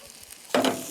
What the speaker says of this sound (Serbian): Krompir se i dalje prži na jaku vatru, nećemo puno ulja